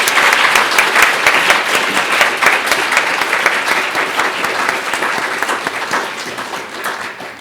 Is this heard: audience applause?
yes